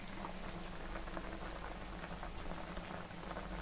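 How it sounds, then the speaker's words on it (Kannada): Cauliflower florets boiling in a pot of water, a steady close bubbling and popping that runs continuously with no voices over it. "ಒಂದು ಕುದಿ ಎತ್ಕೋಬಿಡೋಣ ನೀರಿಂದ"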